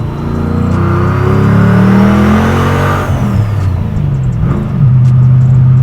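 A supercharged 700 WHP SVT Mustang Cobra revs hard at full throttle, a loud rising engine roar with a supercharger whine that climbs, dips at a gear change, then surges again, close and unbroken.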